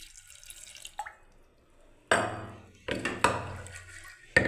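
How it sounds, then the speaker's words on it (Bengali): Water poured into a pressure cooker holding chickpeas and potatoes, heard as a few sharp splashing, clattering bursts over a quiet kitchen background, with no talking. "এই দেখুন জল ঢেলে দিচ্ছি আমি পরিমাণ মতো।"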